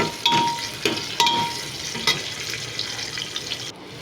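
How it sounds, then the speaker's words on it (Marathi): Vegetables sautéing in a pan for a rice dish, a steady soft sizzle with a few scraping stir strokes and light clinks, close by with no talk. "आणि हा पण थोडासा परतून घेणार आहे एक 5 मिनिटासाठी"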